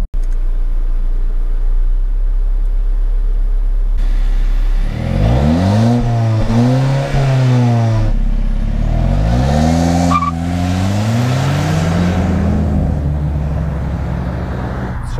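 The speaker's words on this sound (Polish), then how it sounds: "macie również taki delikatny element strzelającego wydechu, co za chwilkę Wam zaprezentuję" A 2018 Volvo V90 CrossCountry 2.0 T6 with 320 hp idles, then revs hard several times, the engine rising and falling in sweeping surges up close with faint exhaust pops between.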